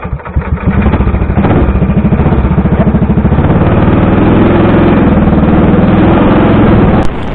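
A go-kart engine buzzes loudly and steadily on a karting track, a close onboard drone holding a rough pulsing note for several seconds.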